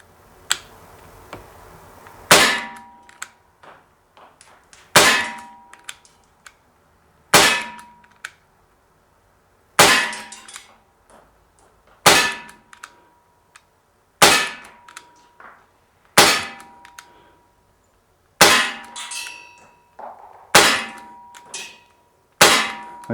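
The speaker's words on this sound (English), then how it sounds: "We're gonna put 10 rounds in the target, and let's see if it's as accurate as it is powerful." Daisy Powerline 5170 CO2 BB pistol fires ten-odd sharp cracking shots at a target, each a loud snapping report with a metallic ring, spaced a couple of seconds apart with quiet between.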